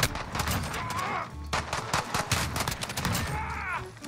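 Shotgun blasts and other gunfire in a Modern Warfare match crack out in sharp repeated bursts, with explosive in-game combat noise filling the short stretch.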